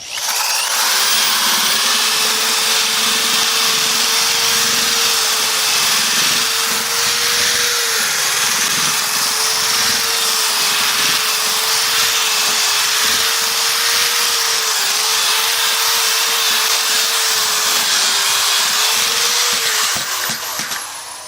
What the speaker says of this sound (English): we have a special mixer, and I run it backwards